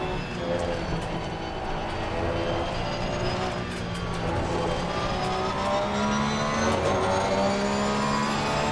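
A GT race car in Assetto Corsa Competizione roars steadily at close range, its engine pitch climbing and falling through the gears with tyre noise underneath. The sound is continuous and loud, with no voices.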